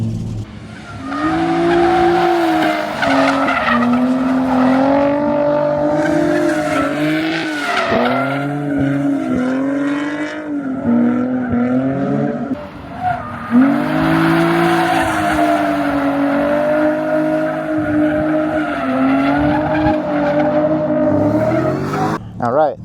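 A rebuilt Nissan 350Z drifts laps on a private track day, its engine roaring and tires squealing continuously and loudly up close, with pitch sweeping up and down through repeated slides.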